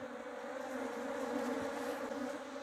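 Honeybees from a strong, heavily populated hive during a colony split, a close, continuous droning buzz that stays fairly quiet and steady throughout.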